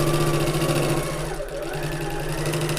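A sewing machine stitches a Half-pint Hobo bag with a loud, rapid mechanical whirring that dips briefly midway, then resumes at the same steady pace.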